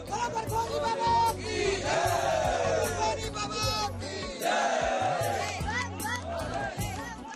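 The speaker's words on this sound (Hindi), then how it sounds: "तीर्थयात्रियों की ये भारी भीड़ इसी बात की गवाही दे रही है।" A large crowd of Amarnath pilgrims gathered at a registration centre, loud overlapping voices, shouts and chatter rising in surges, close and dense throughout.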